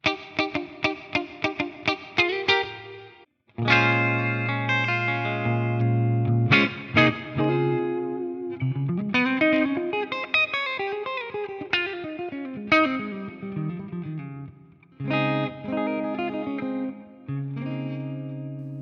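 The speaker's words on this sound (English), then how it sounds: "So again, beautiful clean sound, just like really round, not harsh." Clean electric guitar through an STL AmpHub Vicarius Black 30 amp modeler rings out with strummed chords and picked melodic runs, warm and round with some echo, played close with no talking.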